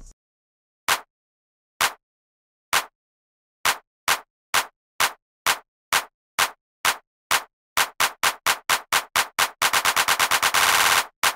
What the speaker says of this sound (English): add a riser, and this clap pattern that speeds up towards the drop